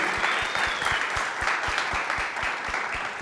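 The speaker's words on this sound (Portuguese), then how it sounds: "Por favor, uma salva de palmas para os meus colegas aqui" Audience applause for a summit panel, a steady dense wash of clapping from a crowd with a few sharp individual claps standing out near the front, no voices.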